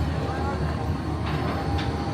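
The fully loaded Big Bad Wolf roller coaster train at Busch Gardens rumbles steadily in the distance, a low continuous roar with faint rattling, heard under a speaking voice.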